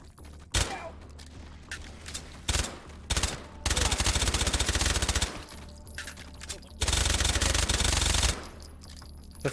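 Loud bursts of extremely rapid automatic gunfire in the VR shooting game H3VR ring out close up, with several long sustained strings and short sharp shots separated by brief pauses.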